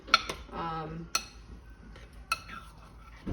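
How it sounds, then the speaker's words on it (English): A metal utensil clinks sharply against a pot while broth is stirred, giving three distinct taps spaced about a second apart with soft scraping and a brief voice between them. "It looks like it's pretty good now that I've given it a good stir."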